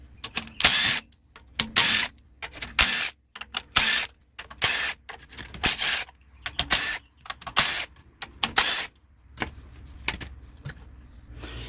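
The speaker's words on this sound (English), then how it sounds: "I'm taking off 9 bolts off this cover." A tool works the bolts off the inverter cover of a 2010-2015 Toyota Prius hybrid, close and loud, a run of short bursts of whirring and clicking separated by brief pauses, with no talking.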